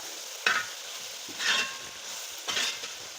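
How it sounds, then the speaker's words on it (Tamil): Grated coconut is stirred into a kozhi avaraikkai (broad bean) stir-fry, with three distinct scraping strokes of a spoon through the pan about a second apart over a low sizzle; no talking. "சேர்த்துட்டு இந்த மாதிரி நல்லா கிண்டி கொடுத்துக்கோங்க"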